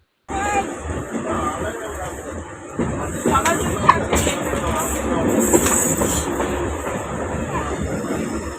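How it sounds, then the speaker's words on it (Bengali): A Vistadome train running from Visakhapatnam to Araku valley rumbles and rattles steadily as it curves along the track, its wheels clattering with occasional screechy squeals while passengers' voices murmur in the carriage. "ট্রেনটা জাস্ট বেঁকে যাচ্ছে"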